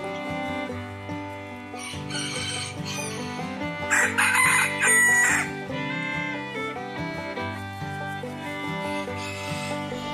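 Roosters crow and hens cluck over a dense musical backing that plays throughout, with the bird calls mixed into the steady music and peaking near the middle.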